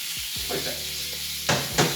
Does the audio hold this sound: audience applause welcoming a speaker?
no